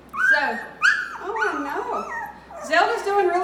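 Zelda, a mother dog kept from her puppies, whimpers and whines in rising, wavering cries, loud and close, with a person talking over them.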